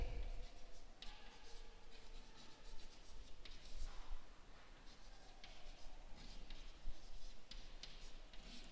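A pen scratches across paper in quick, irregular strokes, faint but close, with short pauses between words being written and no talk.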